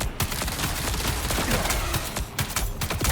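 Rapid bursts of gunfire from a first-person shooter game in Vaultbreaker mode, loud and close, firing almost without pause as enemies are downed with headshots.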